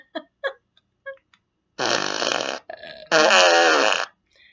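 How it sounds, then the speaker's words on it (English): A remote-controlled fart machine toy lets out a string of short sputtering blasts followed by two long, loud, buzzing raspberry-like farts, close and clear with no one speaking. "It's like this little fart machine."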